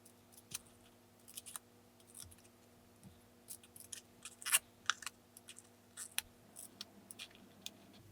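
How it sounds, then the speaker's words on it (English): Scissors snip repeatedly through paper while cutting the tabs of a small folded paper box for doll miniatures, producing close, crisp, irregular cuts over a quiet room hum. "I cut out the tabs."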